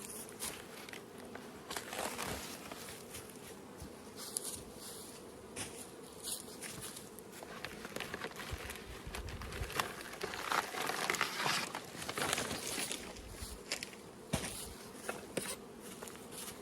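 Honeybees fly in and out of a hive entrance, a steady close buzzing swarm that persists throughout with faint crackles, no talking.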